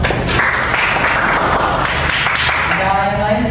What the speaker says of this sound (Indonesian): Tepuk tangan dulu untuk Madam.